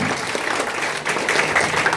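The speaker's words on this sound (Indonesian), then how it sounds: "Tepuk tangan untuk Tuhan Yesus." Church congregation clapping for Jesus during a Sunday service, a dense, steady burst of applause that fills the room, with a faint voice under it.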